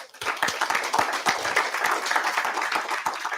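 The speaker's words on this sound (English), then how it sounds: "Everyone give him a big round of applause." An audience at an energy investments panel discussion claps for a speaker coming up, a close, lively round of applause with distinct individual claps, steady for several seconds.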